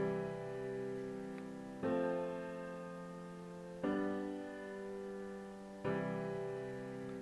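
Notation software plays back a triad chord three times, each a clean sustained block of tones that starts sharply and slowly fades, with brief gaps between repeats and no voices.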